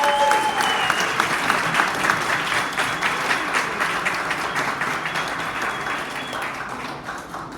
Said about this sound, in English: So everybody, I'd like you to give like the loudest applause